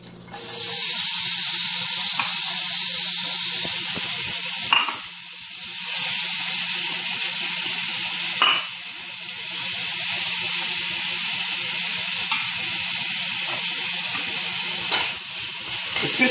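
Diced peppers and garlic fry in hot olive oil in a large skillet for chicken and chorizo paella, a steady close sizzle with a few brief stirring bumps and no talking.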